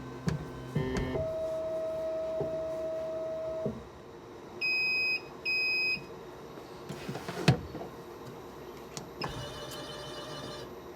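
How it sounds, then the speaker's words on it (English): A Huvitz lens edger cutting a plus-powered left lens: a low mechanical whir and grinding runs under a sustained tone, then two sharp electronic beeps, a loud burst of motor noise and more clattering machine sounds near the end. "Now the edging of our left lens is complete."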